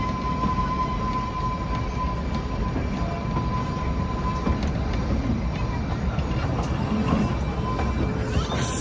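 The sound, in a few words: Shimla toy train running through Summer Hill station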